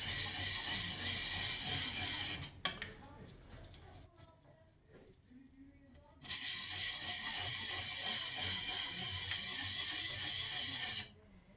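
Steel plane iron scraped back and forth on a coarse DMT DuoSharp diamond sharpening plate, loud gritty rasping strokes that stop for a few seconds of near quiet before resuming, close and continuous.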